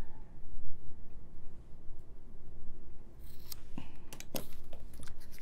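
Scissors snip yarn while trimming crochet fringe on a flamingo kit, with a steady soft rustle first and then several crisp close cuts toward the end.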